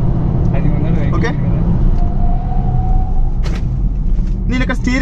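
Interior of a Maruti Suzuki Ciaz sedan cruising on the highway at around 100 to 120 km/h, a steady low road and engine rumble under continuous talking inside the cabin.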